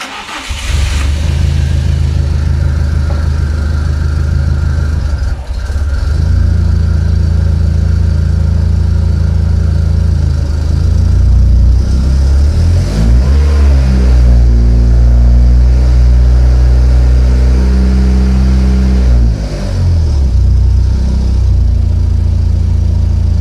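Turbo VTEC Honda Civic engine on a budget build cranks and fires, then holds a loud, steady idle with rising and falling revs, strong and close throughout with no talking.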